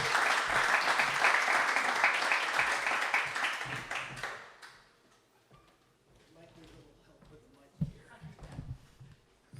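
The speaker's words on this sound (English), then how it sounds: "So if everyone could give him a round of applause." Audience giving a speaker a round of applause at a live talk, loud clapping for about four seconds that fades out, followed by quieter room noise and a few thumps as talk begins.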